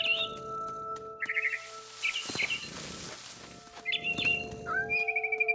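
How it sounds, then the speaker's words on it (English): In the video game What Remains of Edith Finch, a barn swallow chirps repeatedly in short twittering bursts outside a window, moderately quiet over a steady tonal game background. "Then I heard chirping outside my window. It was a barn swallow going back to her nest."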